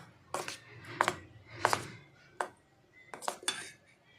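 Nupur henna powder being mixed in a bowl, heard as a handful of sharp scraping clinks of a utensil against the bowl, spaced irregularly and fairly close, with quiet pauses in between.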